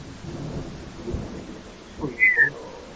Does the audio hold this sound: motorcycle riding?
no